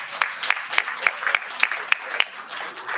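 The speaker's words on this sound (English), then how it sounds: "Give yourselves a round of applause, please." A small audience at the California-Africa Climate Summit claps in a sparse, uneven way, with about a dozen distinct claps spread across three seconds. The sound is moderately close and thin, not a full ovation, with no talking over it.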